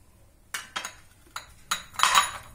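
Metal spoon clinking against a bowl while a spoonful of ajwain (carom seeds) is added for a home remedy, several light, close chinks and taps in quick succession, with no talk.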